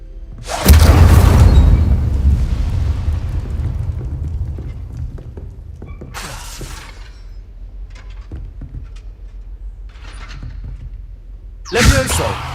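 Fire spell blasts in Hogwarts Legacy: a loud whooshing burst that fades over a second or two, then quieter spell bursts a few seconds apart and a final sharp flare near the end, with a little speech in between.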